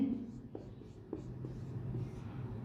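A marker or chalk writes on a board, a few soft scratchy strokes with small taps at intervals, quiet and close, with faint breathy sounds in the background.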